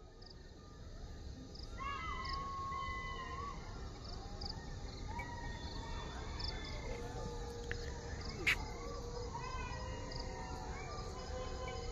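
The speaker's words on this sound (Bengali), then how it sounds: "ঝিঝি পোকার ডাক," Crickets chirr steadily through the night air around a rural railway station, a dense high drone with scattered faint animal calls in the distance and no voices.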